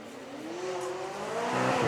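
A twin-turbocharged V8 McLaren supercar engine revving at a supercar weekend in Beaulieu, a loud, close, rising drone that climbs steadily in pitch and volume.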